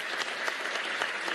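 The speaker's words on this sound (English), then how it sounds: "Please give her a round of applause." Audience applause after a testimony at a religious freedom commission event, a steady dense wash of clapping hands filling the whole short stretch at moderate level with no voices on top.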